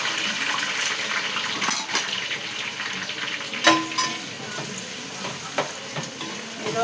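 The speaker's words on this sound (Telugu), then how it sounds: "ఈరోజు చేపల పులుసు వండుతున్నాను అన్నమాట" Fish curry cooks in a pan with a continuous bubbling sizzle, broken by occasional sharp clinks and scrapes of a utensil against the pan, close and fairly loud.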